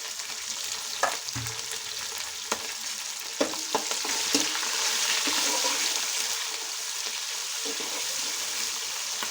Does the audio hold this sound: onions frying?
yes